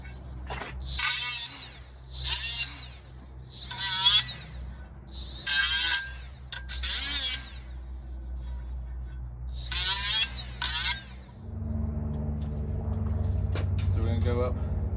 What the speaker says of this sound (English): So I'm going to clean it up with my little Ziz wheel.